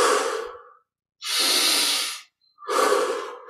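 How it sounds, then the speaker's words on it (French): A person doing guided meditation breathing draws three slow, close breaths, with a long airy exhale through the mouth in the middle. Each breath is set apart by short silences. "expire par la bouche"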